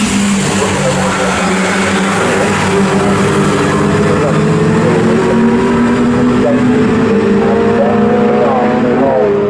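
Mini Miglia race cars roar down the Bentley Straight at Snetterton, a steady blend of engines droning and shifting pitch throughout, with a commentator talking over them.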